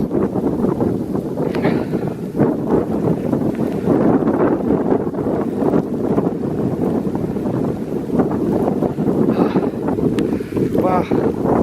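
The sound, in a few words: strong wind in a snow blizzard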